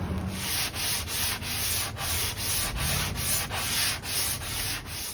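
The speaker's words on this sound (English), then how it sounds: "For the underside and the edges, it's just 180 on a sanding block." Hand sanding of wood with 180-grit paper on a sanding block, on the underside and edges of a printer stand: steady rhythmic rasping strokes, about ten back-and-forth passes, close and fairly loud with no voices.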